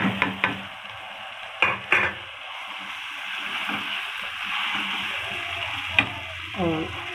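Mashed eggplant added to frying onions and stirred for baingan bharta, with a few sharp spoon knocks against the pan over a soft steady sizzle, close and fairly quiet.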